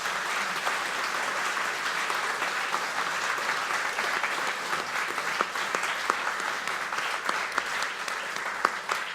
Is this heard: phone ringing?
no